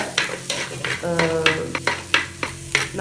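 Ginger garlic paste frying in a clay pot for chicken curry, with rhythmic stirring scrapes repeating about every third of a second over a close, steady sizzle.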